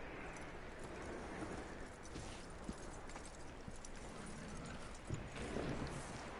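A horse in the video game Red Dead Redemption 2 clip-clops along at a walk, soft hoofbeats under a faint, steady ambient hiss with no talking.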